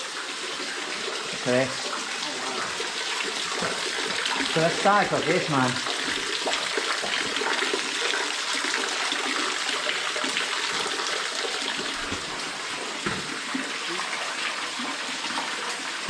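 Water trickles and splashes steadily as it percolates through the rock roof into a large tank inside an underground sandstone mine in Lancashire, a continuous wet wash with brief talk over it.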